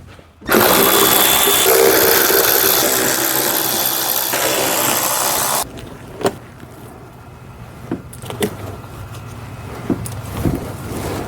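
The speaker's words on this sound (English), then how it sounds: "And then I'm gonna remove these tiny little screws." A power driver whirs loudly and continuously for about five seconds while backing out small 7mm screws on a Saturn Sky, followed by quieter clicks and handling of parts.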